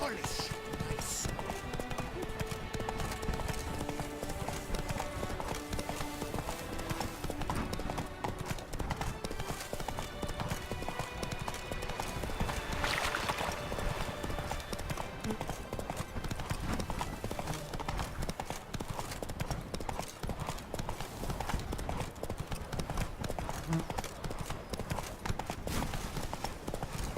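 Horse hooves clip-clopping at a steady run in The Witcher 3 video game, a continuous rhythmic beat under music, ambient sound and character voices.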